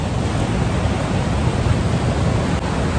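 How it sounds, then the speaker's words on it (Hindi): Heavy rain pours down in Dharchula, a dense, even hiss that stays loud and unbroken throughout, with no voices. "बारिश थोड़ी तेज़ हो गई है तो मुझे ऊपर जाना पड़ेगा।"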